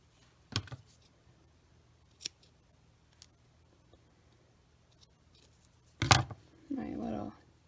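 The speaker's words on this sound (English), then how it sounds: "My little crinkled ribbon has got a few fibers that are loose, so I'm just trimming those." Scissors trimming loose fibers off a crinkled ribbon, with a few sharp, isolated snips close up separated by quiet pauses, followed by a short stretch of rustling near the end.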